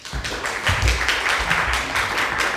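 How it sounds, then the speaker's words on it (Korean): A church congregation at a Sunday service claps together in a dense, rhythmic burst, steady and fairly close for a few seconds with no voices over it. "박수 크게 해주시죠"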